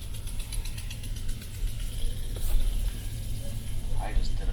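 A Ford F-250 work truck with a 6.2 L gas engine idles low and steady nearby, a constant rumble with faint background sounds.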